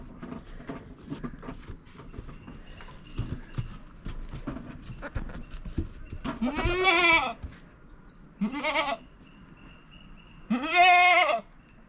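Goats bleat on a farm, several loud nearby calls in separate bursts over soft rustling and shuffling, no talk.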